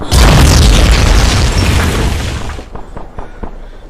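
A huge boom sound effect from a Survivor game show bursts in loud and close. It rolls into a long rumbling decay that fades over a few seconds, with faint crackles at the tail.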